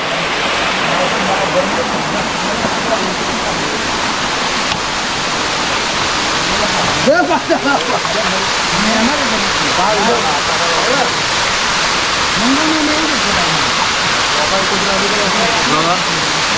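A waterfall roars continuously in an outdoor nature setting, a loud broadband rush of falling water, with a voice talking over it at times.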